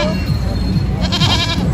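A white goat bleats loudly and close by at a busy goat market, its wavering calls rising over constant crowd and market noise.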